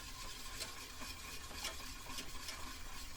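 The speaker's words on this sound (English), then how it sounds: "So keep stirring until your solution, your sugary, saturated solution here, starts to boil." A spoon stirs a sugary saturated solution for rock candy, giving soft repeated scraping and swishing strokes in a steady rhythm against the container, fairly quiet and close, with no talk.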